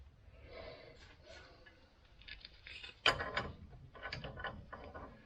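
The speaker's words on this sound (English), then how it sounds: "the hard line at the end of the brake line is what I'm trying to bend right now" A steel brake hard line on a Chevy G20 van being bent by hand, giving a faint run of metallic creaks and ratchet-like clicks with one sharp louder snap midway, close up in a quiet workshop.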